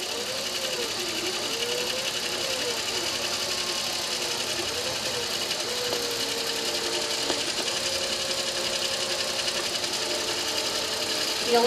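A quilting machine stitches steadily, much like an embroidery machine, with a continuous mechanical whir and a pitch that rises and falls in repeated sweeps throughout.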